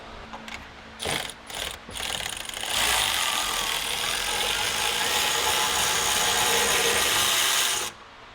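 A small impact gun loosens a nut on a Nissan 350Z differential: a few short hammering bursts, then a long sustained rattling whine for about five seconds before it stops, loud and close with no talking.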